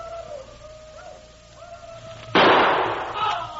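A single gunshot cracks out loud and close after a stretch of faint tonal background, its broad burst lingering for about a second as soldiers advance single file.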